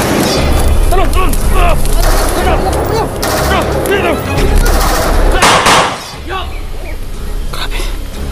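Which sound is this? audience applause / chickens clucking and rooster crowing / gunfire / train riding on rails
gunfire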